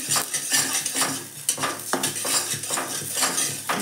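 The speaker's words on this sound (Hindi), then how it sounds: "लगातार चलाने से ठीक रहता है, बढ़िया से भुजा जाता है।" Flattened rice (chura) with peas being roasted and stirred constantly in a pan, loud continuous scraping and clattering of a spatula against metal with a faint sizzle underneath.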